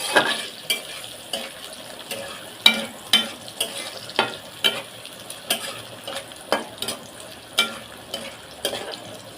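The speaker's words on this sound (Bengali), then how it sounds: "পেঁয়াজ রসুন আর কাঁচামরিচ আমি ভেজে নিচ্ছি" Onion, garlic and green chilies frying in a pan for a Malabar spinach and pumpkin curry, a steady soft sizzle broken by regular sharp scrapes and clinks of a spoon stirring, close and moderately loud with no talking.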